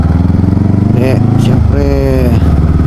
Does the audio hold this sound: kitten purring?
no